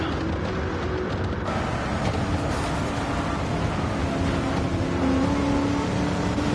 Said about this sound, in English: judging by the sound of that 5 car's engine